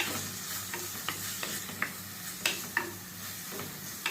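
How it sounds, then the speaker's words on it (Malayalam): Tomatoes frying in a pan for a sardine curry, with soft continuous sizzling broken by scattered scrapes and taps of a stirring spoon, close and fairly quiet. "തക്കാളി ഇതിനകത്തിട്ട് മൂപ്പിക്കും"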